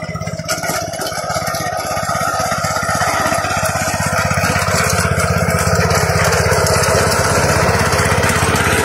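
A Fujijapan FJ601S rotary tiller engine runs loud and close at a customer's site, with a steady pulsing drone that holds for the whole stretch. No one speaks over it.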